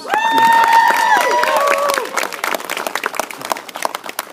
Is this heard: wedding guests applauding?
yes